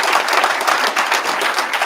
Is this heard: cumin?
no